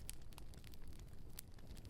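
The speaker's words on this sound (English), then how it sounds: "The roaring, crackling fire grows louder." A roaring, crackling fire burning steadily, with a dense low rumble and scattered sharp crackles and pops throughout, fairly quiet and without talk.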